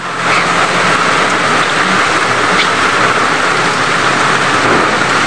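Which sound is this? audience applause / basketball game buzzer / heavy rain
heavy rain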